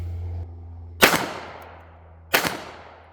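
Two loud, close gunshots from a Ruger LCP II .22LR pistol firing Winchester 40 grain hollow points, spaced just over a second apart, each a sharp crack with a short fading tail, with no talking.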